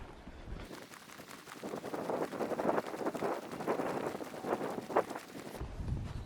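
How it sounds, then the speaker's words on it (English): Wind blows hard across a microphone at a windy seaside beach, a loud, gusty, rumbling roar that surges and fades in uneven waves for several seconds. "so I apologise for wind sounds."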